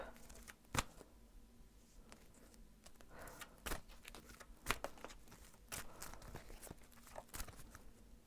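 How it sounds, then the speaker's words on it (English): Archetype cards being shuffled during a monthly tarot reading, giving soft repeated riffling and sharp slapping taps of card stock, some louder than others, with no voice over them. "I'm going to shuffle these archetype cards just to get a little bit more information"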